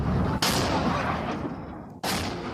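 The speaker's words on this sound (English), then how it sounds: "There were explosions and gunfire in the capital Khartoum and other parts of the country on Saturday." Heavy gunfire and explosions during fighting in Khartoum, Sudan: two sharp loud blasts separated by a roaring, rumbling wash of sustained fire and distant booms.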